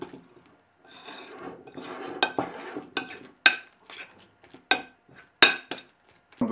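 Ripe cooked banana is mashed in a bowl for a raw vegan oat muesli, soft squelching strokes broken by sharp clinks of a utensil against the dish, close and fairly quiet, with no talk.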